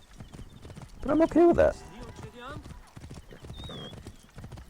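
Horse hooves clip-clop in Assassin's Creed Origins, a light steady trot running beneath someone talking over the gameplay, with a brief whinny partway through.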